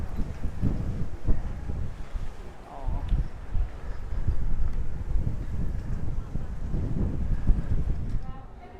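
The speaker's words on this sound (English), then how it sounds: "the wind here is weird because it's super still, and then you get these long, very strong gusts that come rolling down from the hills" Strong, long gusts of wind roll down from the hills on La Gomera, buffeting the microphone with a steady low rumble that swells and eases across the stretch.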